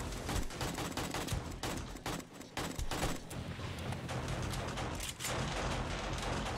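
Continuous dense barrage of explosive blasts and crackling bursts from pipe bombs in the zombie survival game 7 Days to Die, loud and near, with dips between rolling detonations and no talking.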